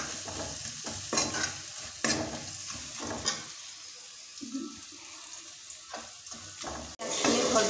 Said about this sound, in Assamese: ৰঙচুৱা হোৱালৈকে অলপ দেৰি ভাজিম।